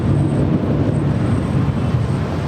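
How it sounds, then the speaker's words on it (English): Delta airliner departing LAX, a loud, continuous broadband jet engine roar, close and steady throughout with no talking. "last departure here on the north side is Delta 935 departing to Salt Lake City"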